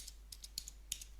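Faint, quick taps on a computer keyboard, a scattered run of soft clicks over about a second against a quiet, humming room.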